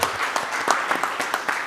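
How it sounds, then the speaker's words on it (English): Audience applause fills a forum hall at an energy storage conference, a steady dense clatter of many hands at moderate loudness with no talk over it. "You can applaud."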